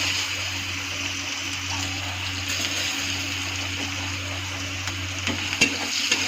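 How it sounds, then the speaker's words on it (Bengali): Two green chilies and chopped onion frying in hot oil in a pan, giving a soft, continuous sizzle with a low background hum and a few faint utensil taps, no voices. "ওই তেলের মধ্যে আমি দুটো কাঁচা লঙ্কা ছেড়ে দেবো। একটা পেঁয়াজ কুচি ছেড়ে দেবো।"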